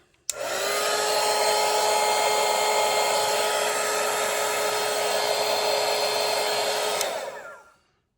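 A hair dryer runs steadily at close range for about seven seconds to dry a watercolour winter landscape painting, starting with an abrupt click, holding one even whine, then winding down.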